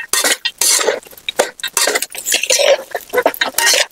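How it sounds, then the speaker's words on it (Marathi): Poha being stir-fried with salt in masala, Mumbai-style kanda poha, with brisk irregular scraping and clinking of a spatula against the pan, close and fairly loud, with light sizzling underneath. "हा सगळ्या पोहे आपण मसाल्यामध्ये चांगलं व्यवस्थित परतून घ्यायचंय"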